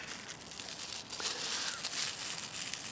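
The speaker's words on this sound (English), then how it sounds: "kept inside a small sealable plastic bag" Soft, continuous crinkling of a small sealable plastic bag being handled close by, rustling on and off with no talking.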